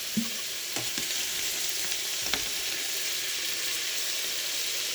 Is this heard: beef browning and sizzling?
yes